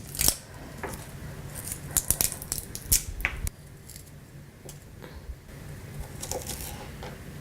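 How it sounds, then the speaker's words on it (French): Garlic being cut with a knife on a board in a home kitchen, a series of quiet, sharp clicks and taps with short gaps, some near and crisp. "on va couper l'ail"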